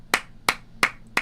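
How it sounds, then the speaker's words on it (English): Four sharp hand claps spaced evenly about a third of a second apart, crisp and close, with no voices around them. "Clap it up in the chat."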